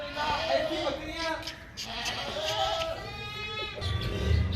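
Goats bleating at a goat sale of well-bred animals, several wavering cries rising over someone talking steadily nearby, with low rumbling handling noise toward the end.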